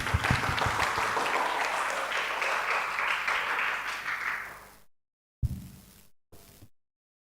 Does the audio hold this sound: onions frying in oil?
no